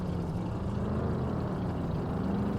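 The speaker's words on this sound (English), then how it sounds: "Fucking cars are so loud." Car engines drone loudly and steadily in My Summer Car, a low, even rumble holding nearly constant throughout without breaks or speech.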